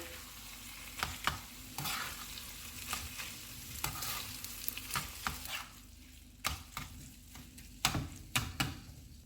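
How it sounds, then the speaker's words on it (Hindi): Keema frying in a pan with whisked yogurt mixed in, a soft steady sizzle under repeated clicks and scrapes of a spoon stirring against the pan. "इसमें फेंटा हुआ दही डाल देंगे। इसको अच्छी तरह मिक्स करेंगे।"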